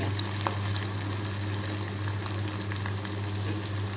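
Chopped onions sizzling in a hot pan with oil for aloo bhindi, a steady, close crackling fry with a low hum underneath and no talking.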